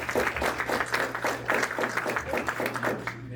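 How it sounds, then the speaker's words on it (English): Audience applause at a political candidates' meeting in Lewisburg, West Virginia: a steady wash of many hands clapping, sustained and fairly loud throughout, tapering slightly at the very end. "Give yourselves a round of applause for that."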